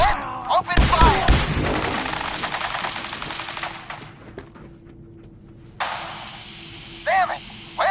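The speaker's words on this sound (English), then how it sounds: "Quick, open fire!" Sustained automatic gunfire erupts loud and close in Fallout 4, a rapid burst that tails off before a second volley starts near the end, with voices over the shooting.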